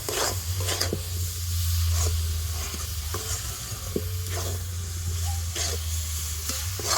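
Rice mixture for homemade sandesh is stirred in a pan over a low flame, with soft, close scraping and gentle sizzling under a low steady hum, and the strokes are spaced a second or so apart; nobody speaks.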